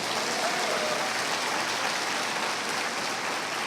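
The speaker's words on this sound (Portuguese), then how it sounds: "Quem pode aplaudir a Jesus?" Church congregation applauding during a worship service, a dense, even roar of many hands clapping that holds steady throughout, filling the room.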